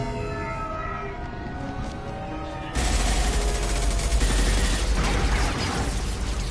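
Dense gunfire in the Mass Effect 2 video game, a sustained loud roar of rapid shots that jumps in intensity partway through, heavy low rumble beneath, with no speech.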